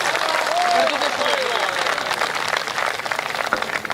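Dense, steady applause from a live audience at a Hindi comedy poetry gathering, loud and continuous for the whole stretch with a faint voice surfacing briefly beneath the clapping.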